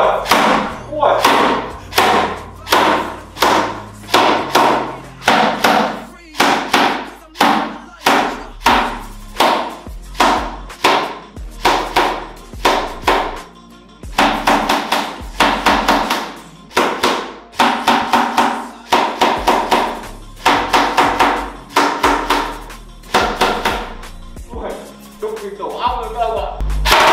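A LEHUI MCX gel blaster is test fired outdoors in long runs of rapid, sharp snapping shots with brief pauses between bursts, loud and close, with someone speaking intermittently.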